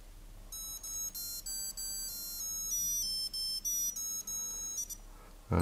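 A Q&Q Superior by Citizen melody alarm chronograph plays its third alarm tone, a faint, quick sequence of high electronic beeps in a bouncy tune, with no talk.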